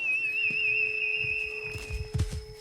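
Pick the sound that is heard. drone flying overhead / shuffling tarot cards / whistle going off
whistle going off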